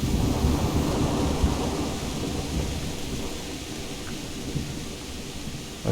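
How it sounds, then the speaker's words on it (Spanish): Heavy rain pours steadily with deep rumbling thunder rolling underneath in a video game, a dense, continuous storm roar with no voices. "Se ve impresionante la lluvia, y los truenos, cómo iluminan."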